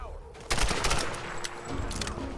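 Assault rifle gunfire in the Tomb Raider video game: after a brief quiet start, a dense burst of rapid shots breaks out and keeps rattling close and loud, mixed with other game noise.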